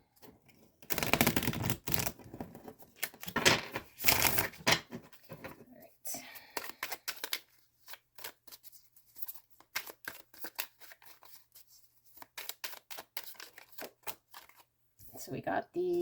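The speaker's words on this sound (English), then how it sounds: "Let's get a good shuffle on these." A tarot deck gets a long shuffle, with repeated riffling and flicking bursts of cards that start dense, then turn to scattered taps and slides, close up, with a soft voice murmuring at times.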